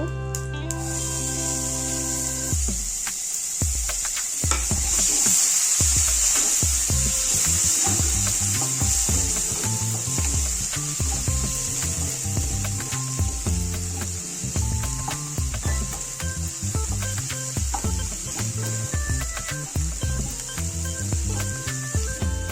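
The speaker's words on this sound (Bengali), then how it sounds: "পেঁয়াজটা একটু লাল করে ভেজে নেব।" Chopped onion frying in hot oil with whole cumin and mustard seeds, a steady loud sizzle throughout with scraping and stirring clatter after the first few seconds, no talking.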